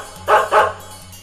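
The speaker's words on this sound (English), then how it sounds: "D for dog" A dog gives two quick, loud barks close together, a sharp double woof that rings out alone against a quiet background.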